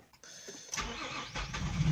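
An Infiniti I35 engine, just sprayed with brake cleaner, cranks briefly and catches, then settles into a steady running hum, heard close up without talking.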